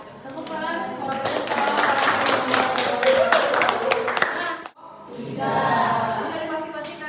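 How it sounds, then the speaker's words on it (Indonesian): A group of teachers applauds at the end of a class presentation during an academic coaching session, with dense, rapid clapping for about four seconds before voices take over. "tepuk tangan."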